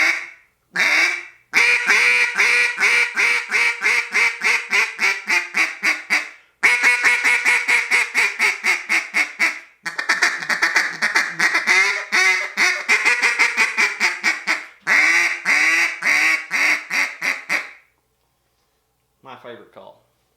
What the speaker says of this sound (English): This is my favorite call.